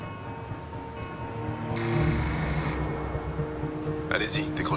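A telephone rings in bursts of electronic trilling under the low murmur of an indoor scene, with a voice speaking over the ringing.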